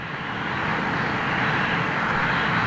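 An Air Malta airliner taxis across the active runway toward Terminal 3 at Heathrow, its engines giving a steady broadband hiss and roar that builds slightly and holds.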